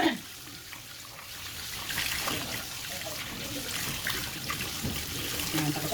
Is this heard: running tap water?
yes